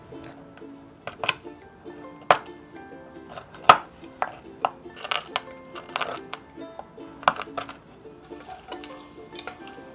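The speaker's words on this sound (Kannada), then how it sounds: "ಅಷ್ಟರಲ್ಲಿ ಬಾದಾಮಿ ಮತ್ತು ಪಿಸ್ತಾನ ಚಿಕ್ಕ ಚಿಕ್ಕ ಪೀಸಾಗಿ ಮಾಡ್ಕೊಳ್ಳೋಣ." A knife chops almonds and pistachios into small pieces on a board, giving irregular sharp knocks in short bursts over soft background music.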